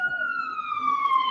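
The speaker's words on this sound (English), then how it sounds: "I don't know if you hear the sirens, but it's like super loud." Loud siren wail from an emergency vehicle outside, a steady drawn-out tone gliding slowly downward in pitch, close and prominent throughout.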